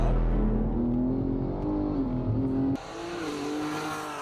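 A sports car engine in a racing video game revs hard with steady harmonic tones that rise and shift, a brief drop in pitch and level midway suggesting a gear change, loud and close with no talking.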